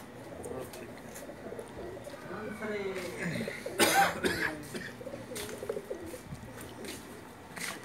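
Pakistani pigeons coo softly in the background on a rooftop in Jeddah while a nearby person coughs and murmurs, with a louder burst midway through.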